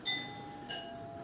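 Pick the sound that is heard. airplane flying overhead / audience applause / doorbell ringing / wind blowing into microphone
doorbell ringing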